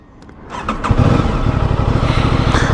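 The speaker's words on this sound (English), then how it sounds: "Aprilia RS660 with the SC Project full exhaust system that I just showed you guys, that thing sounded amazing." A 2023 Aprilia RS660 motorcycle fitted with an SC Project full exhaust starts up and settles into a loud, close, throbbing idle.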